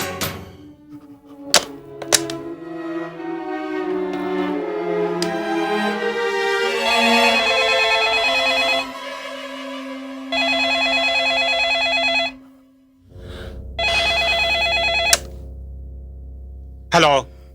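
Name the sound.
telephone ringing at midnight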